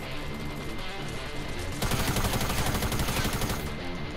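Sustained video game gunfire from SCAR rifles and tactical SMGs, with steady shots through the first part before a denser, louder burst of rapid automatic fire takes over for the rest.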